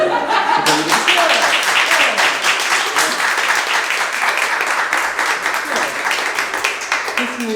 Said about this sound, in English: I need a little round of applause before I know that an event is.